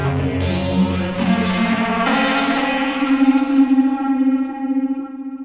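Sustained Cherry Audio software synth chords wash through delay and reverb, repeated attacks echoing and smearing into a long shimmering tail with a hint of distortion and chorus, loud and alone.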